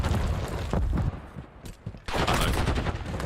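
Rapid gunfire bursts from the Call of Duty video game during a Call of Duty League esports match, dense automatic fire that briefly drops away before resuming at full intensity.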